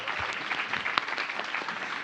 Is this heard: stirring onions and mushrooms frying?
no